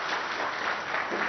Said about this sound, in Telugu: చప్పట్లతో ధన్యవాదాలు చెప్పాలని కోరుతూ